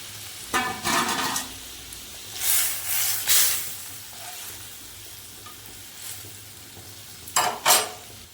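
Puti fish go into a pot of lightly watered curry with water lilies, and loud bursts of sizzle and hiss rise and fall in several waves with quieter bubbling between them.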